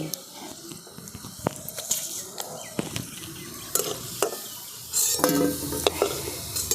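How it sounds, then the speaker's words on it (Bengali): Food pieces fry in hot oil in a pan, giving a close, soft sizzle with sharp clicks and scrapes of stirring. No one speaks over it. "বাকি যেগুলো আছে সেগুলোকেও আমি ওই একই রকমভাবে ভেজে নিচ্ছি"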